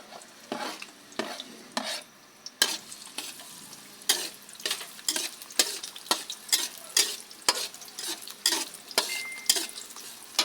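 Two heads of garlic and two onions dropped into a hot pan, then stirred: repeated scraping strokes of a spatula over a soft sizzle, close and moderately loud, no talking.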